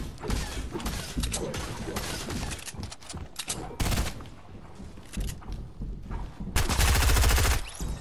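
Rapid gunfire in a Fortnite match, bursts of automatic shots and single cracks crowding together, with a loud, dense volley near the end.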